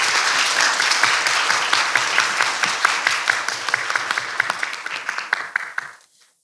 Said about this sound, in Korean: 다시 한번 이 자리에 함께 해주신 장관님께 큰 박수 부탁드립니다.